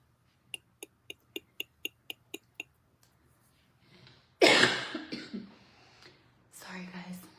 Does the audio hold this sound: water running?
no